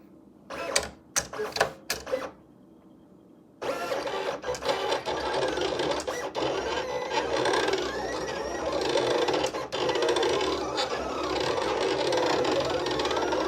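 Silhouette Cameo 4 cutting machine making a cut: a few short whirring bursts, a brief pause, then a continuous buzzing, rattling motor with shifting pitch, close and fairly quiet.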